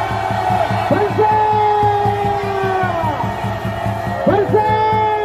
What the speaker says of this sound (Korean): 저기 관저로 퇴근하는 분들께 함성 10초간 발사!